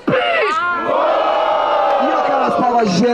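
A crowd at a rap battle roars and cheers in loud, massed shouting voices that swell and hold throughout, close and boisterous.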